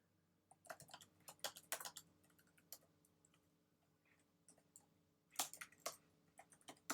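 Code is typed on a computer keyboard at close range, an irregular run of quiet clicking keystrokes with short bursts and pauses, under a faint steady hum and no talking.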